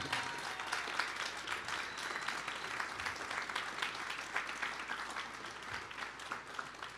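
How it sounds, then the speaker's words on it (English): Faint, sustained clapping from an awards show audience, an even patter of many hands with no voices standing out, distant and low in level. "deserves to get a huge round of applause"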